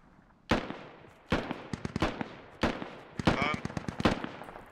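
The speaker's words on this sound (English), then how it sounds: "Groot is trying to shoot someone." Gunfire in the military shooter game Squad: several separate volleys of rapid automatic shots at moderate distance, overlapping with one another and trailing off between bursts.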